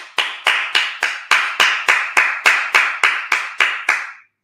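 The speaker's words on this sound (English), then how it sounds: "All right, clap it up." A congregation at a Sabbath service claps in slow unison, about fourteen sharp, evenly spaced group claps filling the room, then stopping abruptly.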